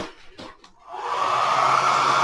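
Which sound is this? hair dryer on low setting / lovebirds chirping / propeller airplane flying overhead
hair dryer on low setting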